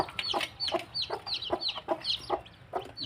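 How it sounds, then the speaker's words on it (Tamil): A hen clucks steadily close by beside newly hatched chicks, whose high thin peeps chirp repeatedly over the low, rhythmic clucking. "அடுத்து இந்த கோழி பாருங்கள் இதில் வந்து இன்னும் உடச்சி ஒரு முட்டை இருக்குது குஞ்சுகள் பொறிச்சு இருக்குது"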